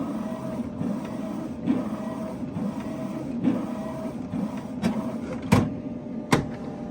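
A Canon TM-200 large-format printer runs steadily through a print job, its carriage and feed mechanism producing a continuous mechanical whir with soft periodic shuttling, punctuated by a couple of sharp clicks near the end.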